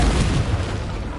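A Confringo fire spell bursts in Hogwarts Legacy on PS5: a single short, loud, deep blast that fills the moment and fades quickly.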